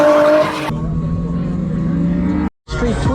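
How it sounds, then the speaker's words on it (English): Cars drift at Bimmerfest, loud engine roar and tire squeal from a car-show crowd, with a brief sharp cut before the noise returns. "I want to see some drifting."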